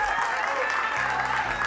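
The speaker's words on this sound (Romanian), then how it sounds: "Aplauze încă o dată." An audience at a band's first concert in Cluj claps in a steady wash of applause, fairly close and continuous, with a low hum running underneath.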